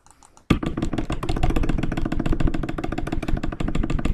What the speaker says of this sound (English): It might have just got loud with clicking because I have to click.